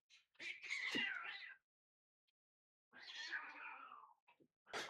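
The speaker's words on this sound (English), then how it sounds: "There's a little bit of a cat fight going on outside" Cats caterwaul and yowl outdoors in a fight, two loud drawn-out bursts of wailing separated by silence, then a short sharp cry.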